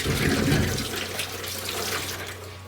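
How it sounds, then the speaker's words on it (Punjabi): Tap water runs onto a clay pot (matka) being wetted all over, a steady close splashing stream with a faint low hum underneath. "ਇਹਨੂੰ ਨਾ ਚਾਰੇ ਪਾਸੇ ਤੇ ਨਾ ਇਸ ਤਰ੍ਹਾਂ ਪਾਣੀ ਨਾਲ ਗਿੱਲਾ ਕਰ ਲੈਣਾ ਹੈ"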